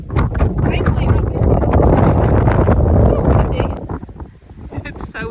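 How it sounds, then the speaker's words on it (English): Strong gusts roar across the microphone for several seconds on foggy, wet Cadillac Mountain in Acadia National Park, loud and rough, then ease off, leaving quieter outdoor sound with brief voices. "It's so windy."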